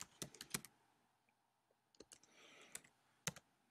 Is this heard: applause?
no